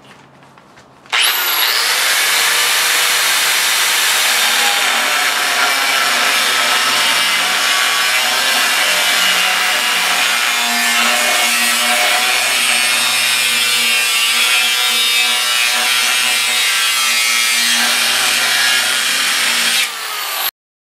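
A power saw cuts through steel clamped to the edge of a workbench, a loud, steady, high-pitched grinding whine that runs continuously for about twenty seconds before stopping abruptly.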